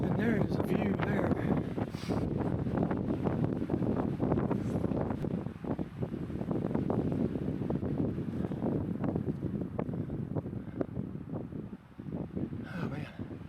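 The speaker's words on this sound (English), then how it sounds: "wind's definitely picking up" Steady wind rushes and buffets against the microphone on a thorny mountain ridge in Guadalupe Mountains National Park, a continuous loud roar with gusty swells and rustling throughout.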